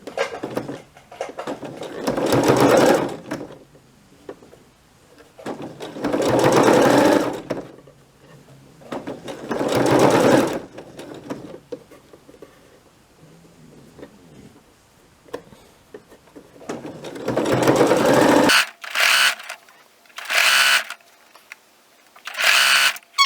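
A sewing machine stitches a fabric face mask in several bursts of rapid, buzzing needle action a few seconds each, separated by quiet pauses, ending with shorter quick runs.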